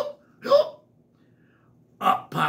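A voice imitating a big red cartoon dog's hiccups while reading a children's story aloud: three short, sharp hic sounds spaced with pauses, the last two close together, voiced near and clear.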